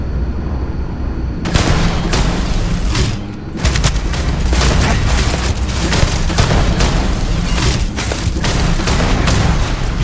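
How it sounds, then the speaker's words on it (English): Rapid gunfire against level 56 turrets in Starfield, loud repeated bursts of shots and booming impacts in quick irregular succession with a short pause, no speech. "I'm going to try shooting the turrets."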